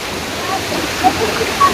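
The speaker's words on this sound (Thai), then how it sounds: "น้ำตกชั้นที่ห้า" Water tumbling down the fifth tier of Mae Sa waterfall, a steady broadband rush filling the short span with no clear speech.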